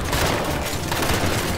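Gunfire in the co-op shooter Gears 5, a loud, dense, continuous burst of rapid shots and booms filling the whole moment.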